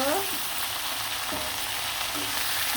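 Broiler chicken pieces fry in hot oil until deeply browned, a steady loud broadband sizzle running throughout with a few brief scraping stirs and no voices.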